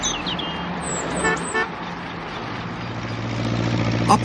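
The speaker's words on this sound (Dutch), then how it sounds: "Ab van Driel kwam eraan op zijn trekker" A tractor approaches along a road, its engine rumble growing steadier and lower toward the end, with a couple of brief horn-like tones and short clattering bursts early on.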